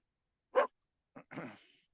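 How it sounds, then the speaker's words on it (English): A dog lets out a short, fairly faint bark, followed about half a second later by a second, rougher and longer bark, with no talking over it. "Dog, would you stop? They're not bothering you."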